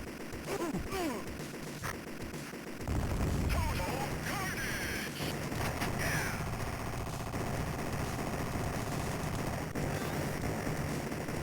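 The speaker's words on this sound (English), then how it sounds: "Got a semi-automatic rocket launcher here" Semi-automatic rocket launcher firing in the arcade shooter Total Carnage, a steady barrage of dense booming blasts and explosions that fill the mix after a brief quieter opening with game sounds.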